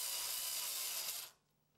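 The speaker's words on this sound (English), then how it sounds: "Remove the metal plate, install the card, and secure it with a screw." A screwdriver drives a screw to secure an expansion card into a desktop PC case, giving a close, dry ratcheting scrape that lasts about a second and then stops abruptly.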